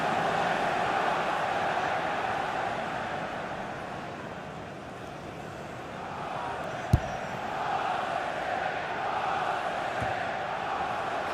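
A stadium crowd in the FIFA 18 video game jeers during a Premier League match, a continuous murmuring roar that dips and rises with a brief sharp knock in the middle.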